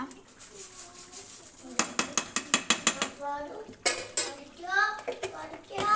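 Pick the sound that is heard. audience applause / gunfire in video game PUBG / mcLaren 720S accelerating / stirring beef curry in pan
stirring beef curry in pan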